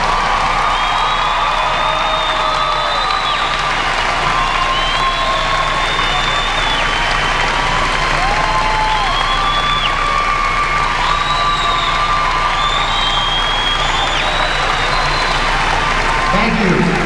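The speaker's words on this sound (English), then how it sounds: "let's give them a big round of applause" Dense, sustained applause and cheering fill a high school graduation venue for the whole stretch, with whoops and shouts rising above the steady clapping of a large crowd.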